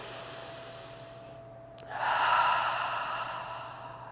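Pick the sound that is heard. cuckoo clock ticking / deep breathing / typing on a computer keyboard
deep breathing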